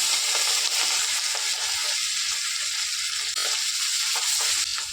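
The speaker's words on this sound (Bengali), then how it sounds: "তেল গরম হয়ে গেছে এবার মাছগুলো একটু ভেজে নেব" Hilsa fish fry in hot mustard oil in a pan with a loud, steady, dense sizzle and crackle, close up and constant, with no talk.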